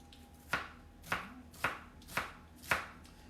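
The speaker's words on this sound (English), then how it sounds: "They're just going to be diced up pretty small." Celery sticks diced with a knife on a cutting board: five crisp chops land about half a second apart, close and clear, with no talking.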